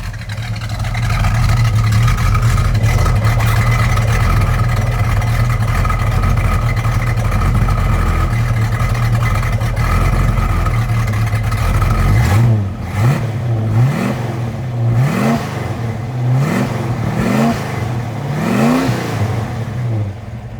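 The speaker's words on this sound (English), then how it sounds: "Nice tone from the dual exhaust." Dual exhaust on a 1968 Ford Mustang convertible drones loudly at a steady high idle, then is blipped in a string of quick, rhythmic revs that rise and fall several times.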